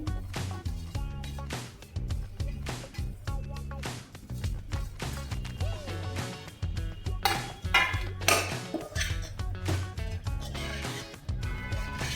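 Spatula clinks and scrapes against a pan while poha laddu mixture is mixed over low heat, the metallic clatter running steadily and close for the whole stretch, layered over a dense, continuous musical background.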